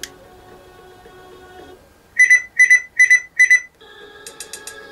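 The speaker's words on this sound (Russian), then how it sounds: "Запищало максимум." An A10 portable Bluetooth speaker gives four short, loud, evenly spaced beeps at its maximum volume setting, standing out between quieter passages of background music.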